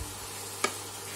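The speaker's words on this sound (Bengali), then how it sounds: "এবার ওটা নাড়তে থাকবো" Spring roll filling is stirred in a pan: a single sharp spatula clink over a faint background sizzle, very brief and without talk.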